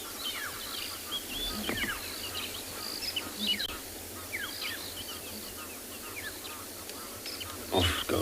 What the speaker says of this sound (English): And it's such a massive sound for such a bird.